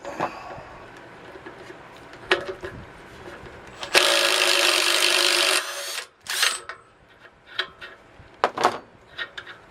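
Work on the front wheel of a Triumph TLS motorcycle, with scattered metallic clicks and knocks, then a harsh two-second burst of loud broadband whirring from a 1 1/8 inch socket tool removing the nut, followed by more clattering.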